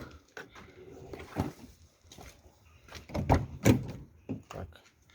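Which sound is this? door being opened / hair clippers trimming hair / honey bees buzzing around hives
door being opened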